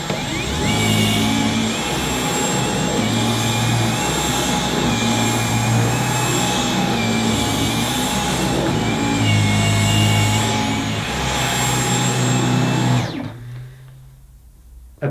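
A Dyson V11 cordless vacuum cleaner runs on plush carpet with a loud, steady motor whine and brush roll drone, then cuts off abruptly near the end.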